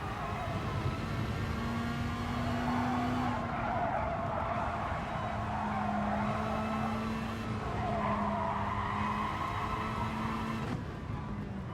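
Race car engine in GT Sport revving steadily at full throttle, with shifting tonal pitch and tire skid noise, loud and continuous throughout with no talk.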